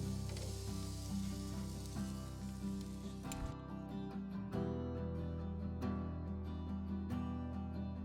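Big fish fillets frying in a pan, a loud close sizzle with bursts of spatter and scraping clatter as the pieces are turned over, going on for several seconds.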